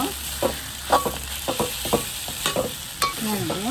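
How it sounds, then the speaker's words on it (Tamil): Masala for chicken curry is sautéed in a pan, with rhythmic scraping and stirring strokes over a low sizzle, plus a few metallic clanks of the spoon, loud and close. "அது மட்டும் நல்லா வதக்குங்க"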